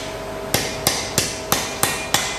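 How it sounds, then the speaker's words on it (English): A hammer strikes hot metal on an anvil while a medieval spear is forged. Six sharp, ringing blows come at an even pace, loud and close, with a faint steady tone running underneath. "see where my hammer is falling?"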